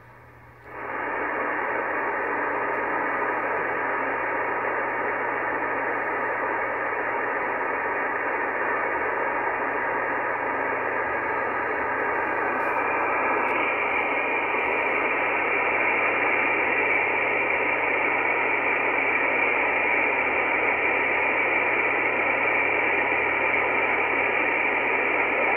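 Satellite beacon from the XW-2 amateur satellite on 145.725 MHz, received on an Icom IC-R8500 receiver: a steady, loud wash of radio hiss and tone runs unbroken for the whole stretch, with no voices.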